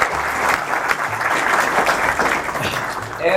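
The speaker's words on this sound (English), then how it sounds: "Big round of applause." An audience at a cars and coffee gathering claps in a sustained, dense burst of applause that fills the space, close and lively, with a few voices mixed faintly into the clapping.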